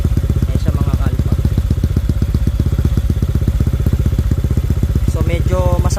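A loud, near idle from a 160cc-tuned Honda Click 125 scooter on 100-octane fuel, heard at its exhaust tip: a quick, regular throb with slight clatter that holds steady the whole time.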